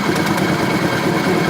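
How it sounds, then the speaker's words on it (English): A scooter engine idles steadily after a carburetor idle adjustment, a close, loud, continuous low rumble with even vibration. "keep it as low as possible to maintain the proper idling."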